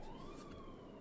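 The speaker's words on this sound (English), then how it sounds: "If you didn't hear it, that was a siren." An emergency siren wails faintly in the distance, a steady rising tone over low background hum, with no voices.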